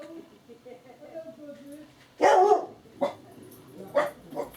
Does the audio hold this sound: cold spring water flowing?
no